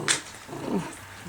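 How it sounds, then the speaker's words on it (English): A seven-week-old puppy gives a low, fairly faint growl with a rough throaty rumble, close by, with soft whines at the edges. "You growling at him now?"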